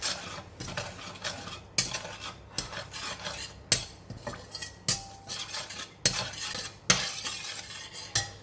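A utensil clinks and scrapes against a bowl while light soy sauce, oyster sauce and sesame oil are mixed together for a tofu and bean sprout stir-fry, with rhythmic close clatters repeating about once a second.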